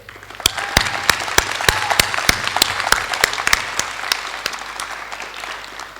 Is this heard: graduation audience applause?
yes